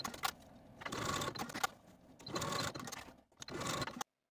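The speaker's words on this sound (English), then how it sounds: "Take them to your sewing machine and stitch down these corners just along each outer edge" A sewing machine stitches down the pocket corners on DIY overalls in three short bursts of rapid whirring separated by brief pauses, close and clear, ending abruptly.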